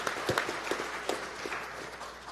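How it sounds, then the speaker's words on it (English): An audience at an accessibility and smart-cities conference claps. The applause is loose and moderately loud, with uneven hand claps running through the whole stretch. "give yourselves a round of applause at each other"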